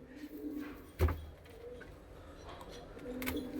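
Punjabi pigeons coo softly in a loft, with low repeated throaty calls and a few faint chirps against quiet background noise. There are some brief knocks and rustles.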